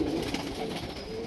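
Madrasi pigeons coo softly at a sale loft, a faint low murmur of cooing against quiet background noise with no voices.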